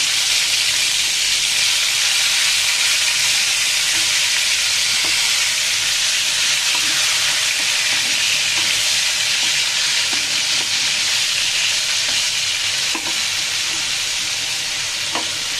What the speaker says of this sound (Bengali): তেলের মধ্যে মাছগুলোকে আমি ভেজে নেব, একটা একটা করে দিয়ে দিচ্ছি।